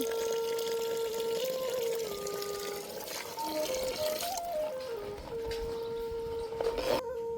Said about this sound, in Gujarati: થોડું પાણી ઉમેરશું.